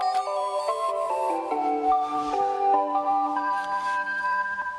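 Simple electronic melody from a Teddy Ruxpin toy's storybook button, steady stepwise notes playing continuously, fairly clear and close with no talking.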